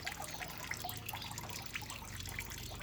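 Rainwater dripping steadily from a roof gutter onto sprouting mung beans, a close, continuous patter of small drips and trickling water with no voices.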